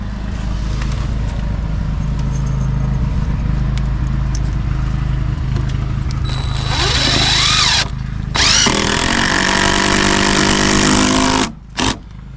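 An impact driver sinks screws into hardwood on a roof project: a steady loud motor whir with rattling hammering, brief pauses, then renewed bursts of driving near the end.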